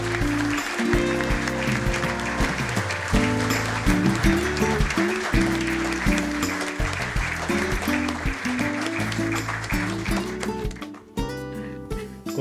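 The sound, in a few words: applause at a court administration inauguration ceremony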